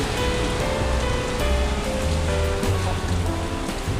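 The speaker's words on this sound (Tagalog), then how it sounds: "Oh, inabot tayo ng ulan." Steady heavy rain pouring down on a bicycle ride around the Laguna Loop, a dense continuous hiss with no pauses, loud and close.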